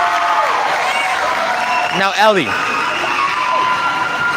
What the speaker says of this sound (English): the Falcons fans are cheering, and the Stars fans are quiet